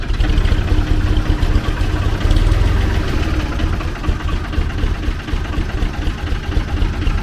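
Sanderson offroad forklift engine running at a steady idle, a loud, close diesel-like rumble with continuous low chugging throughout and no talk.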